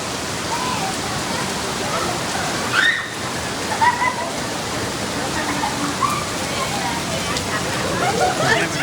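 Heavy rain pouring down a street in Mazamitla, Mexico, a steady dense hiss of water with runoff sloshing, while distant voices and scattered shouts rise over it.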